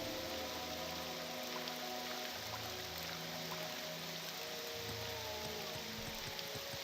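Steady rain falls in the Morrowind video game world, a continuous even hiss with soft tonal music beneath it and no voices.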